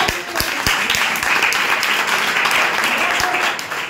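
Students in a maths and reasoning class clap together in a loud, dense burst that holds steady throughout, with a few low thumps mixed into the clapping.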